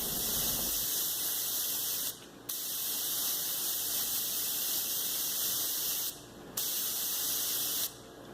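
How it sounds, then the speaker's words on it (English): Aerosol top-coat finish sprayed onto a glittered wooden princess wand, a close, steady hiss that runs almost without a break, cut by three brief pauses, no voices. "I've sprayed it, given it a couple of top coats this morning"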